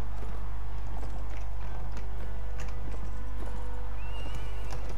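Horse hooves clip-clop at a steady walking rhythm in the Mount and Blade Warband video game, moderately loud over a constant low hum, with no talking.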